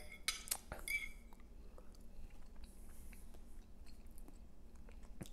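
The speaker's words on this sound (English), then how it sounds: "I'm going to go ahead and give it a bite." Someone bites into oil-free sweet and spicy vegan hash browns topped with sriracha and ketchup, giving a few sharp close crunches followed by softer chewing and small clinks against a quiet background.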